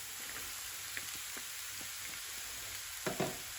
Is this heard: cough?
no